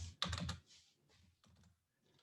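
Computer keyboard typing while writing notes, a quick cluster of close key clicks followed by a few softer, sparser taps, faint and with no voice over them.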